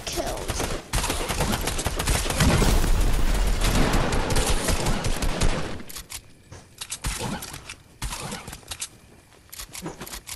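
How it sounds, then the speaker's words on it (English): Gunfire in Fortnite: a dense, loud stretch of overlapping shots and rapid automatic fire that thins into scattered, fainter shots, with voices talking at times over the action. "What are you shooting at?"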